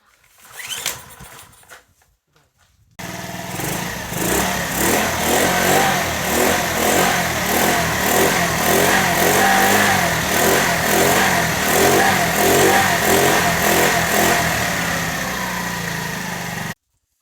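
A worn-out, smoking old scooter engine catches after being kick-started and runs loud and close, puttering in a rough, uneven idle with pulsing revs; a few faint handling noises come before it.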